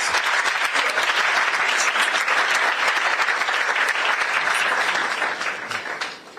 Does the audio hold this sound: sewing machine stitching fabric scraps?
no